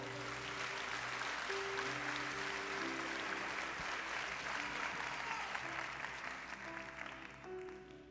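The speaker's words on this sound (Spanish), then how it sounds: "Démele un aplauso a Dios." A church congregation applauding during a sermon, a dense sustained wash of clapping that carries steadily and fades slightly at the end, with organ or keyboard tones held underneath.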